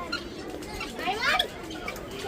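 Pigeons cooing in open roosts on a farm, a few soft rolling coos and faint chirps close by, with light background noise and a little talk nearby.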